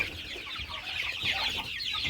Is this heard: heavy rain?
no